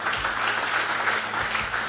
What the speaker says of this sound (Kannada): ಅರ್ಥ ಆದವರು ಸ್ವಲ್ಪ ಚಪ್ಪಾಳೆ ತಟ್ಟಿ